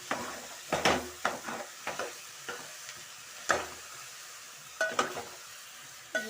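Cauliflower curry with tomato and potato stirred in a pan with a ladle: a run of rhythmic scraping strokes over a low continuous sizzle, close and clear, without speech.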